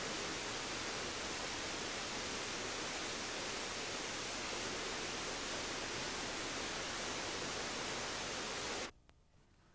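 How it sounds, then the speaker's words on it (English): Alum Pot beck plunges down a 300-foot vertical limestone shaft in a steady, loud, broadband roar of falling water. The sound holds constant without talk, then cuts off abruptly near the end. "This awe-inspiring vertical shaft is over 300 foot deep, with alum pot beck plunging in from the moor above"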